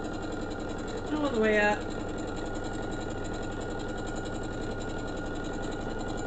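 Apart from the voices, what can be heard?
sewing machine stitching a Christmas stocking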